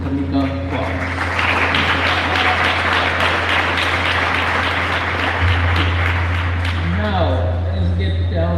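Audience at a school debate final breaks into sustained warm applause, dense and even clapping throughout, with a steady low hum underneath and brief voices near the end.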